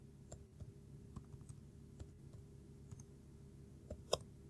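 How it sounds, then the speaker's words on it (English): Rapid typing on a computer keyboard: a quiet, irregular run of crisp clicks and taps with one sharper keystroke near the end, heard alone without talk. "as you can tell, I'm typing really fast"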